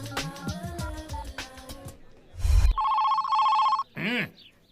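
A telephone rings unanswered, a loud electronic warble in two bursts following a stretch of music, close and alone.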